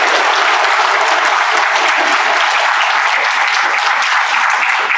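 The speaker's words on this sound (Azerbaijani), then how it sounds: "Bir alqışlarınızı eşidək də onda" Steady, dense applause from an audience fills the whole stretch, loud and sustained without pauses.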